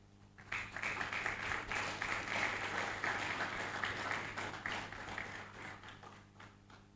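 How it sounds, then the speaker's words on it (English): A conference audience at Rethink Africa 2025 claps in a steady, full round of applause lasting several seconds, moderately distant, then thinning out toward the end. "Oh, keep clapping."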